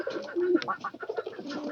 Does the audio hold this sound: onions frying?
no